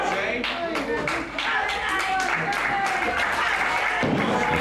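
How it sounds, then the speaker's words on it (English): Wrestling fans in an arena cheer and clap steadily, a dense wash of applause and crowd noise with scattered sharp claps throughout. "Fans now actually cheering on Shane Austin"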